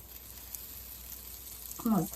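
Mutton chops fry in a pan with a steady, soft hiss of hot oil throughout. A brief voice rises over the sizzle near the end.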